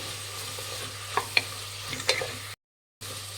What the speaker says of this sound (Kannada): ತರಕಾರಿ ಎಲ್ಲ ಚೆನ್ನಾಗಿ ಫ್ರೈ ಆಗಿದೆ.